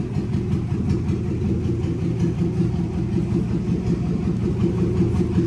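A 1957 Plymouth Savoy engine idles close by, a loud, steady low rumble with a slightly uneven mechanical pulse throughout, alone without talk.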